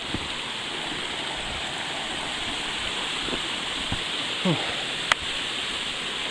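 A brook flowing beside a hiking trail in Mount Carleton Provincial Park, New Brunswick, giving a steady, even wash of running water with a few faint clicks and a brief chirp over it.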